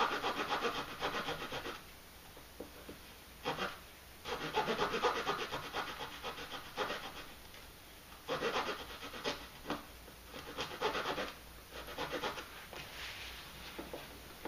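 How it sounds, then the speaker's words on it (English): A small gauge saw trims the wooden back braces on a resonator guitar kit, with close rasping strokes in bursts separated by short pauses. "the thing I'm going to do then is trim these braces, get them out of the way"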